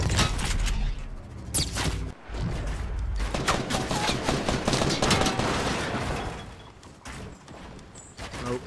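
Shotgun gunfire in the Fortnite battle royale video game, loud repeated blasts and rattling bursts of fire crowding together in a dense barrage, with a short break midway and quieter game sounds toward the end.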